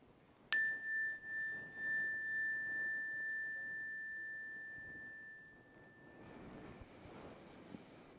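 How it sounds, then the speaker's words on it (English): A meditation bell is struck once near the start with a sharp chime, then its clear tone rings on and slowly fades over several seconds, leaving faint airy background noise. "When you hear the sound of the bell"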